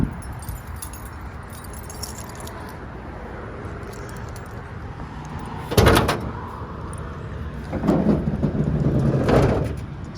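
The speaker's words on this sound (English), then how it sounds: "Put the door back up." A car door on an old Slant 6-engined vehicle being fitted back into place, with a sharp metallic clunk followed a couple of seconds later by a longer rattling, scraping handling sound, close up in a garage.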